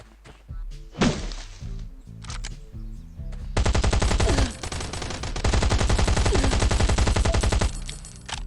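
Heavy gunfire in the Last Island of Survival video game, with a few separate loud shots followed by long, continuous rapid automatic bursts that sound close and dominant.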